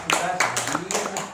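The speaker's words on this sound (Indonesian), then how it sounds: "Tepuk tangan dulu dong untuk kita." Audience applause at an Indonesian public event, irregular bursts of clapping mixed with voices talking, fairly close and steady across the short stretch.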